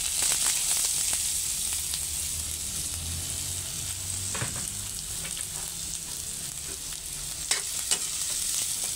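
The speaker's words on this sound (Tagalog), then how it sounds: "Gigisa ko lang siya sa mantika muna" Spices sauté in cooking oil for a snail dish, a loud, bright, steady sizzle with occasional stirring scrapes and small pops, and no voices.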